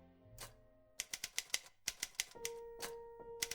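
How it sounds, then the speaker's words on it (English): Clattering typewriter keystrokes tap in quick irregular bursts over a soft sustained musical tone, close and crisp, with no voices. "its use of the sound of a typewriter"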